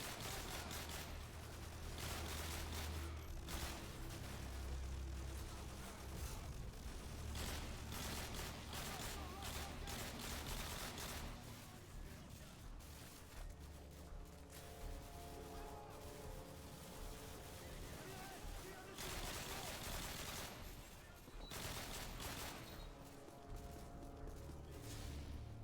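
Machine gun fire and explosions in the video game Call of Duty Modern Warfare 2: dense, chaotic bursts of gunfire and booms throughout, loud and continuous, with someone talking over the action.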